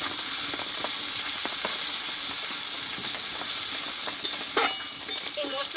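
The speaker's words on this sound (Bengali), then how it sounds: "এই মশলাগুলো ভালোভাবে আমি একটু কষিয়ে নেবো" Mutton sautéing with garlic paste, spices and salt in a pan, giving a steady low sizzle throughout with a few faint clinks of stirring near the end.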